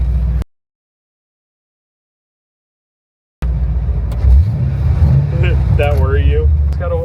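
After a brief silent gap, a Ford Bronco engine with its exhaust cutouts open rumbles loud and low, a deep steady roar with slight swells, while someone talks over it.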